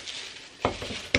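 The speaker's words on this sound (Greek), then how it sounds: "Ανάβω το μάτι μου και πριν προλάβει να κάψει το λάδι, θα βάλω μέσα τα μπιφτέκια μου." Frozen homemade burger patties dropped into oil in a pot on a stovetop, the oil not yet fully hot: a brief soft sizzle with a couple of light clatters from the pot, no talking.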